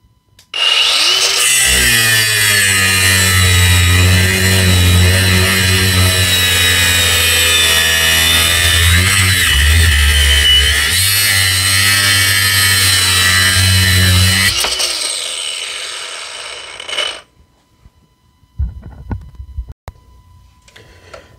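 A Ryobi angle grinder cuts with a loud, sustained whine for about fifteen seconds, its pitch wavering under load, then spins down, followed by a few faint clatters and quiet.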